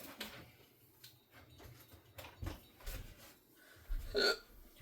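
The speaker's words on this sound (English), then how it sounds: "Oh, hiccup." A single hiccup rings out near the end amid quiet indoor handling noises and soft clicks of a resin crafting session, with faint scattered sounds before it.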